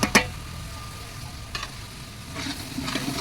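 Ground shallot paste with spices sautéing in hot oil for a home-style biryani, a steady low sizzle with a few sharp scrape clicks of a stirring spoon near the start and middle.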